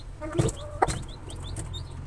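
A mother hen gives a few soft, close clucks while her newly hatched chicks peep in short, high chirps around her.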